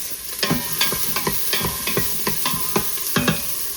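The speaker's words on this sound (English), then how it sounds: "I'll get that in to start sauteing." Chopped onion sizzles in a hot pan while being stirred, the steady frying hiss punctuated by regular scraping strokes of a utensil, close up and without talk.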